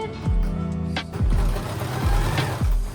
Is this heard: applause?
no